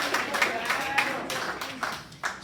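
An audience at an open mic night at the Promenade claps in a light, scattered burst, fairly close and moderate in loudness, with an announcer speaking over the applause.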